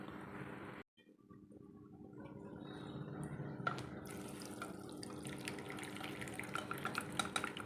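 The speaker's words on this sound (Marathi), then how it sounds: "तर आता आपण हे पाणी काढून घेऊया." Water draining and pouring from a pot of cooked taro leaves, dal and peanuts in a home kitchen, a steady splashing, trickling stream that runs continuously after a brief pause.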